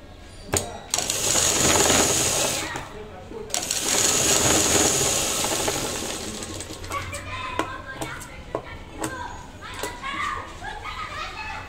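Sewing machine stitching a blouse seam with a double stitch at the shoulder: two sustained whirring runs of motor and needle, each a couple of seconds long, followed by scattered clicks and handling sounds as the fabric is adjusted.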